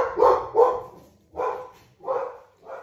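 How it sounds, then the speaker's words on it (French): Dogs at home barking in a series of sharp, spaced barks, five bursts at a moderate distance with short gaps between them. "c'est mes chiens qui ont dû voir un chien passer"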